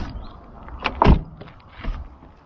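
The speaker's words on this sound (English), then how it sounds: "In the back, you open the doors, of course," A rear door on a 2021 Honda e unlatches and swings open, giving a single close, solid clunk with a quieter click just before it and a faint rattle after.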